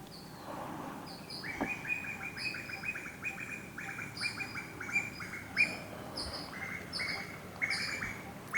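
Birds chirp outdoors in repeated bright tweets and trills that overlap steadily over soft background ambience, moderately close, with no speech.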